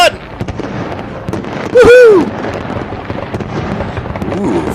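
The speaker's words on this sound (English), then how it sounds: "Ooh, fireworks." Fireworks burst close by during a summer celebration in New York, a loud crackling blast with a whistling rising streak around the middle over steady background crackle and rumble, while people cheer and shout nearby.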